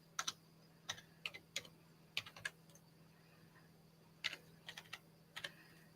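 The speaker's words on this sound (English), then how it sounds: "I can't remember where I have to type." Typing on a computer keyboard: quiet, irregular clusters of key clicks in short bursts separated by pauses, with a faint steady hum beneath.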